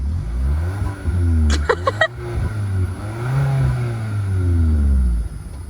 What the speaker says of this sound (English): down here you have your exhaust pipes that produce this sound